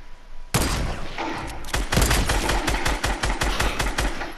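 Video game gunfire during a duos shootout with pump shotguns: a sharp onset gives way to sustained, dense bursts of rapid shots that stay loud and close throughout, with no talking.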